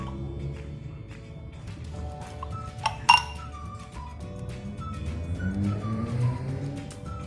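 Glasses of kombucha clink together in a toast, with a sharp double chink near the middle standing out over a soft, steady background hum.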